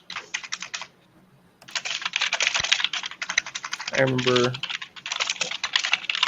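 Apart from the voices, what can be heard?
loud computer keyboard typing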